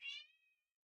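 A cat meows once from inside a closet, a single clear, fairly close cry that trails off within about half a second, with no talking.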